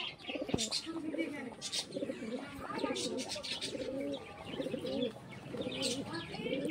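Pigeons for sale coo in repeated low, throaty calls close by, with chirps and scattered clatter in the background and a little faint talk.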